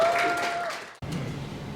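Audience applause as a speaker is welcomed to the stage at a members' general assembly, a dense wash of clapping that briefly drops out and then resumes steadily.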